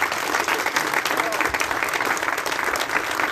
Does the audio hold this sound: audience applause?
yes